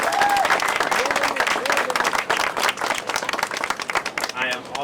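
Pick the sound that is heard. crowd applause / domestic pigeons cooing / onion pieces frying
crowd applause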